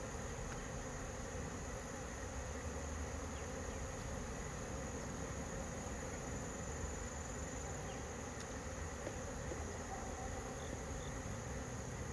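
Honeybees swarm around an open hive during a mid-October inspection, a dense steady buzzing drone that fills the whole stretch at even loudness, with no one speaking.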